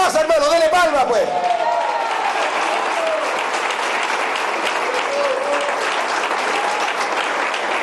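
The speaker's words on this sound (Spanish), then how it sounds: "¿Cuántos pueden darle palmas de alabanza al que vive?" A church congregation claps in praise, a sustained crowd of hands filling the room after someone speaks briefly over it at the start.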